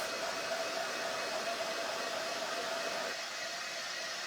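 A hair dryer blows a steady, even stream of air to dry a fabric transfer, a continuous close whoosh with a slight drop in level near the end.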